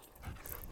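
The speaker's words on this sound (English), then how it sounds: "Hi, doggy." A dog outdoors pants faintly and steadily at close range in a soft breathy rhythm, with no voices.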